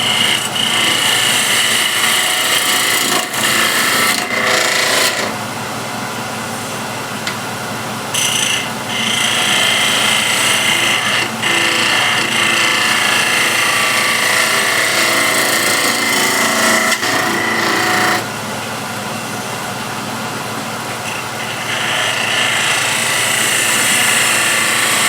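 A wood lathe spins a piece of scrap wood while a skew gouge cuts it, giving a loud, steady whirring roar with a scraping edge that dips briefly now and then.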